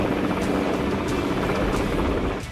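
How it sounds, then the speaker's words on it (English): Helicopters climbing in wide ascending spirals over a coastal town, a loud continuous rotor and engine roar with rhythmic blade chop, steady and close, easing slightly at the end. "the helicopters describe huge ascending spirals over Ilfracombe"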